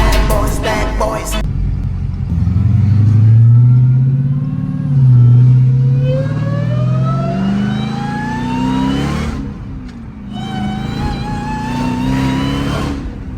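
A 1000hp Dodge Demon Charger running with no hood revs hard up close: a deep rumbling idle climbs into loud rising howls, drops off briefly, then surges again.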